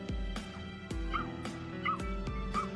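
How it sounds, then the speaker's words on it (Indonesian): A large dog barks repeatedly, deep and booming, in a steady rhythm of about five loud barks close by with no other sounds. "Anjing besar menggonggong."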